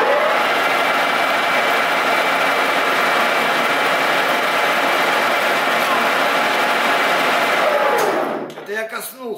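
A metal lathe cutting a Morse taper, with a steady loud machine hum and cutting noise running continuously before cutting off abruptly near the end, leaving brief clatter.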